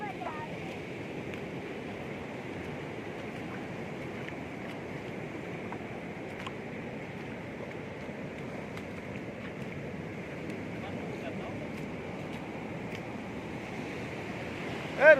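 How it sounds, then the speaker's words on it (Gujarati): Sea waves wash continuously at a beach, a steady broadband surf roar at moderate level with little variation, and a brief louder burst at the very end. "હા રુદ્ર, મજા આવે તને દરિયે?"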